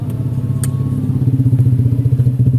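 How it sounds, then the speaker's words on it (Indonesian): A motorcycle with a loud aftermarket exhaust runs alongside a car, its low engine rumble pulsing steadily and growing rougher toward the end, heard from inside the vehicle. "ada suara motor dengan knalpot yang cukup berisik ya"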